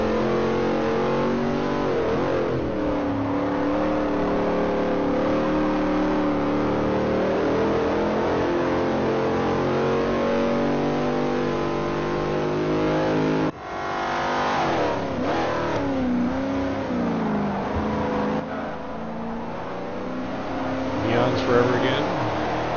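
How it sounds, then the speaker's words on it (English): Historic Trans Am race car engine in a racing video game at Sears Point (Infineon), a loud sustained rasping drone rising and falling with revs, briefly cutting out partway before climbing again, with commentary talk over it. "certainly is a great sounding car"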